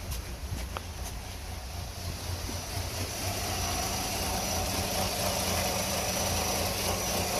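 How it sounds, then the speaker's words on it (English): A Nissan Altima 2.5L engine with intake timing solenoid faults and misfires idles with a rough, uneven, laboring rumble beneath steady wind-like noise, holding at a constant level throughout without speech. "Hear the engine's laboring a little bit."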